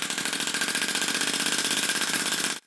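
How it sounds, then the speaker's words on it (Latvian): A homemade compressed-air engine runs at a fast, even pulsing rhythm, loud and close, then cuts off abruptly at the end. "Dzinējs joprojām darbojas,"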